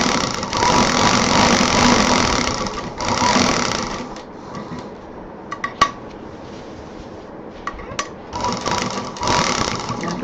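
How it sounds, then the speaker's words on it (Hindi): A sewing machine stitches fabric for a homemade college bag in loud, steady runs that stop briefly midway, with a few small clicks and taps in the pause before the stitching resumes. "इधर भी जो लगाया था वहाँ पर उसी चौक पर मशीन चलानी है"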